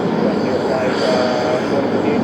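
Jet airliner taking off on a long-haul departure from JFK, a steady broadband roar of engines held at a constant level close by, with voices talking over it.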